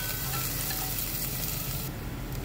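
Garlic, scallion roots and shallots frying in hot oil in a pot, a dense continuous sizzle that crackles close and loud throughout and eases slightly near the end.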